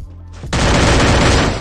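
Gunfire from the battle-royale video game Free Fire erupts after a brief quieter lead-in, a loud, dense burst of rapid shots that continues without a break to the end.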